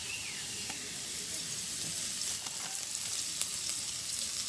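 Spice paste frying in hot oil in a village Bengali kitchen, a steady broadband sizzle with occasional sharper spits and crackles running continuously throughout, close and moderately loud with no talking.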